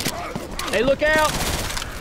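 Gunfire from the zombie shooter game Left 4 Dead 2, heard as a short burst of rapid shots mixed with game effects, while a character voice speaks over the action.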